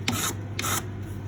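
Two short back-and-forth rasping strokes of sandpaper on a metal wedding band, worked to remove file lines; close and fairly quiet over a steady low hum, with no talking.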